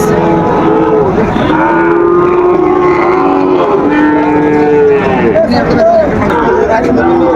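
Sahiwal bulls and calves mooing at a busy cattle market in Dinajpur, Bangladesh, with long drawn-out calls from several animals rising over steady crowd chatter and bargaining voices throughout.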